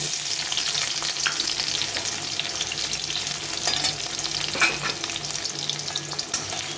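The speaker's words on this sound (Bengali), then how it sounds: "এখন এই তেলে কিছুটা পেঁয়াজের বেরেস্তা করে নেব।" Sliced onions fry in hot oil, a continuous loud sizzle with scattered pops and crackles from stirring throughout, with no voices.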